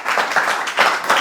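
An audience at a school cooking competition claps briefly in a short, loud burst of applause that swells and dips over about a second.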